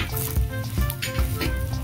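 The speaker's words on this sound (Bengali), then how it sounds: "এই এগ রোলটা ভাজা হয়ে গেছে" An egg roll frying in a pan, loud close sizzling with crackling bursts and a few soft stirring scrapes over a couple of seconds, with no voices.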